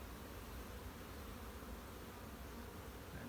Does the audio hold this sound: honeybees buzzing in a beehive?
yes